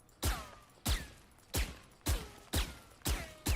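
Seven sharp, evenly spaced gunshots from Jett's weapon in Valorant crack out about every half second, each with a short ringing tail and fairly quiet between shots, with no voices.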